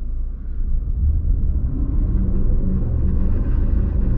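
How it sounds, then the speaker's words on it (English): An AWD SUV spins its wheels in mud and sand mode, a continuous low rumbling engine roar with rough, churning texture that holds steady for a few seconds, with no one speaking. "So lots and lots and lots of wheel spin."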